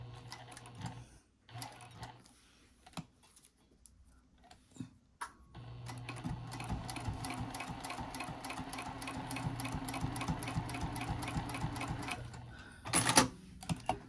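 Sewing machine stitching a vinyl pouch strap, pivoting and turning across the end: short bursts of stitching with pauses, then a steady, continuous run of rapid needle clatter, close and clear, ending with a brief sharper clunk.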